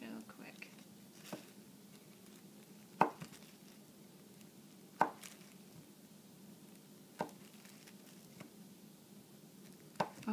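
Knife slicing through bars of coconut milk and lime hot process soap, a few separate soft cuts spaced apart over a quiet background, with faint low talk.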